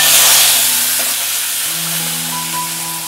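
Turkey berries (sundakai) frying in hot oil give a steady, loud sizzle and hiss throughout, with a faint low hum beneath and no voices.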